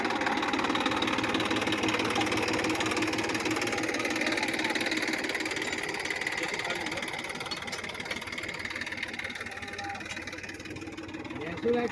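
A steady, rumbling Massey Ferguson 1035 tractor engine drones continuously at moderate volume in a field, with people talking faintly underneath, easing slightly toward the end.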